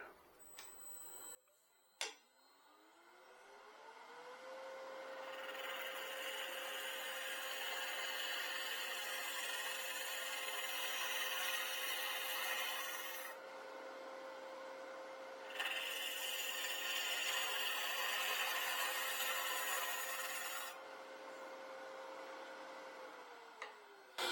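A wood lathe turns while a 60-degree swept-back bowl gouge hollows a bowl from the center out. A steady motor hum runs throughout beneath hissing, scraping cutting noise, which breaks off briefly midway and then resumes.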